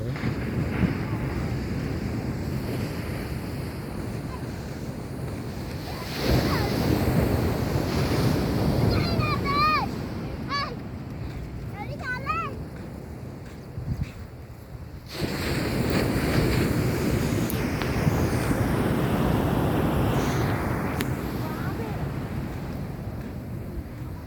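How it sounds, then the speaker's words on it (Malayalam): Ocean waves surge and wash in a continuous roar at Manjeshwaram beach at dawn, mixed with gusty wind noise and brief voices in between. "അറ്റമില്ലാത്ത ദൂരത്തോളം നീണ്ടു കിടക്കുന്ന കടൽ കാണാം"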